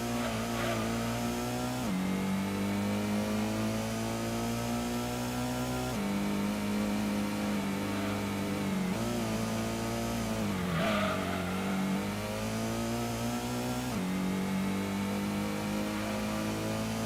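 Engine of a car in a retro racing video game revs steadily and loudly throughout, its pitch dipping and climbing with gear changes, with no talk over it.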